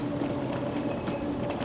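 A train passes at a Berlin station with a steady rolling rumble and hum of wheels on rail, moderately loud and continuous, with no voices over it.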